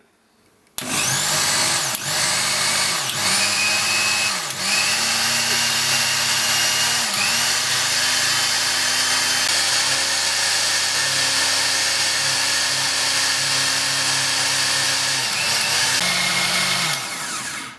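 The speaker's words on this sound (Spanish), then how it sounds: "Ahora a batir." A blender whirs loudly and steadily for about sixteen seconds, blending a spinach smoothie with lemon juice and ginger, its motor pitch shifting slightly as the speed changes before it cuts off.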